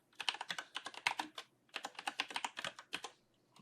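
Close, crisp keystrokes on a computer keyboard as a keyword phrase is typed, two quick bursts of rapid tapping with a short pause between them.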